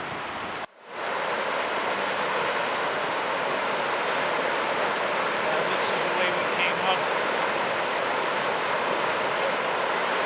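Flooded creek rushing over rocks, a dense, steady roar of churning water heard up close and continuous, after a brief dip at the start.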